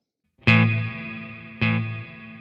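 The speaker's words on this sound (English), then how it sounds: "You can hear I got a really long delay time." Two sharp guitar notes about a second apart through a LEKATO Tank-G effects processor, each ringing out with a long sustained tail that lingers and slowly fades, like a drawn-out delay echo.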